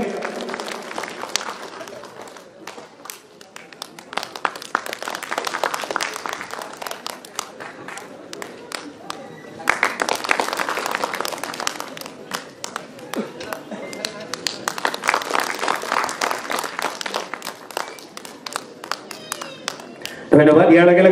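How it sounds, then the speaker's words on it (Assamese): At a felicitation ceremony, an audience gives scattered, uneven applause for an honoured guest, rising and falling in waves over the whole stretch, with talk and movement mixed in. "চক্ৰদাৰ বাবে এটি হাত চাপৰি লাগে"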